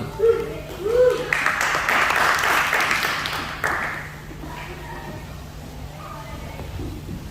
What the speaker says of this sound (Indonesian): Jadi mari kita sambut dengan tepuk tangan.